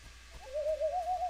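A wavering, rising call from natives in a video game, a single drawn-out hooting cry that swells and holds for about a second at moderate level, with no talk over it.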